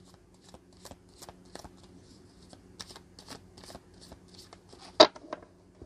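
Tarot cards are shuffled for a reading in a series of soft, quick riffling bursts, close and quiet, ending in one sharper snap of cards near the end.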